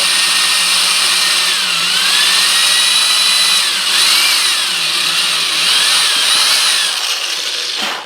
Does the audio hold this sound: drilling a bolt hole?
yes